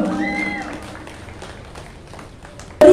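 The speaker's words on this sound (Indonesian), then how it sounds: "Boleh berikan tepuk tangan yang meriah." A crowd applauds at an art community's fine arts exhibition opening, steady clapping that fades gradually after a voice at the start, then a sudden loud burst at the very end.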